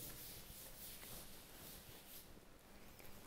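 Steady rubbing on a board as writing is wiped away during a maths lesson on circles, a continuous soft scrubbing sound heard close with no talk.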